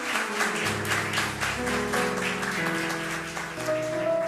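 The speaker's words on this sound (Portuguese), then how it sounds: "Aplauda Jesus aí com alegria" A church congregation claps steadily throughout, the applause blended beneath loud sustained worship music played on keyboard.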